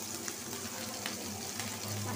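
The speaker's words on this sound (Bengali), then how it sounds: "মাছটা ভাজা হোক।" Hilsa fish frying in a pan at home, a steady dense sizzle with faint clinks heard close up and no talking.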